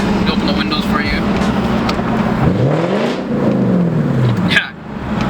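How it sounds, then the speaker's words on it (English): A loud 1999 Lexus LS400 V8 with a full straight-pipe exhaust revs and drones with a deep, rough note, rising and falling in pitch, heard close up from inside or beside the car with windows open. "the exhaust setup on this, it's actually a full straight pipe, and it's a beast"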